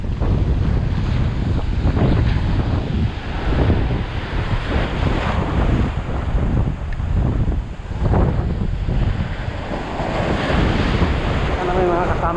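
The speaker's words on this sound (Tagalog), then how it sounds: "alon." Ocean waves surge and break steadily along an island shore in Palawan, loud and close, with strong wind buffeting the microphone and a faint voice at times.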